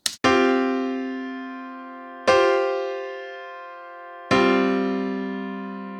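Sus4 vocal harmony chords, with the third replaced by a fourth, sounded three times at even two-second intervals; each enters crisply and holds as a full, ringing stack of tones that gradually decays.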